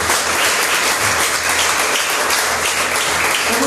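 A church congregation bursts into loud, sustained applause during a service, many hands clapping in a dense, even roar that holds steady for several seconds.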